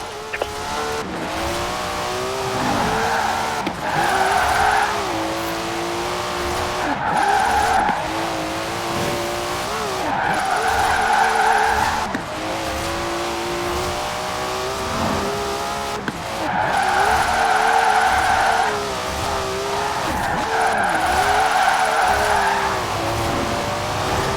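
A car in the racing game Forza Horizon 4, engine roaring with long repeated tyre squeals in sweeping, drifting bursts, loud and continuous.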